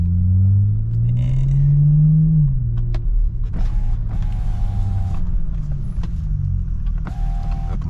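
A car rumbles past close by while the listener sits in a G37, a low droning engine sweep rising and falling over the first few seconds, then a steady low idle-like rumble with occasional creaks and faint tonal whines.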